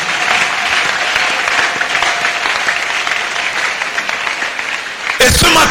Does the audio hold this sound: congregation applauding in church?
yes